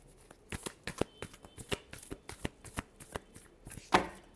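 A deck of tarot cards is shuffled by hand close by, producing a quick series of crisp riffling slaps and flicks in an uneven rhythm, ending with a sharper final snap.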